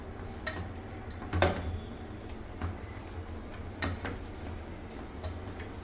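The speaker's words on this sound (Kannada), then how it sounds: "ಮೊದಲಿಗೆ ಇದು ಎಲ್ಲ ಈ ಥರ ಮಿಕ್ಸ್ ಮಾಡ್ಕೊಬೋಣ" Aloo chapati ingredients being mixed in a bowl, with faint scattered clinks and light scraping against the bowl at a soft, steady level.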